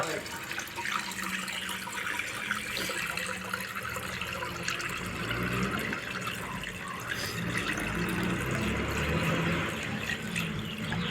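Coconut water being poured out, for coconut oil preparation at home, makes a continuous, steady splashing trickle that runs for several seconds without pause.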